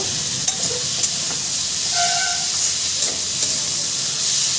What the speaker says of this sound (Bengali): মশলা দিয়ে আমি ডাটার সঙ্গে সবজির সঙ্গে সুন্দর করে কষিয়ে নেব